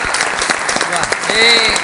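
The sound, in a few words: audience applause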